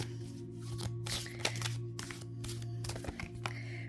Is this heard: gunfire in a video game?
no